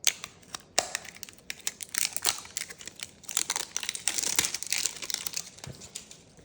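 Shrink-wrap plastic on a Magic: The Gathering deck box crinkles and tears close up, with repeated sharp crackles and rustles building into dense crumpling toward the end.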